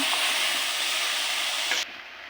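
Bitter gourd frying in oil in a kitchen pan makes a loud, dense, continuous hiss that cuts away abruptly near the end.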